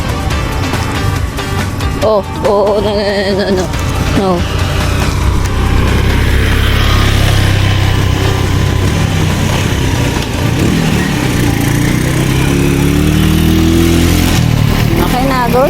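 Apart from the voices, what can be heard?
motorcycle engine passing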